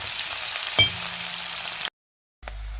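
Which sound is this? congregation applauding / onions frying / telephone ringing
onions frying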